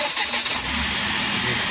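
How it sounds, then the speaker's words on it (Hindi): Daihatsu Hijet 850 engine running just after a tappet adjustment, a steady close mechanical drone with a low rumble that holds evenly throughout, with no voices over it. "देख सकते हैं गाड़ी हमारी स्टार्ट हो चुकी है"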